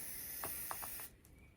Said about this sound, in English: I'll just spray in here a little bit.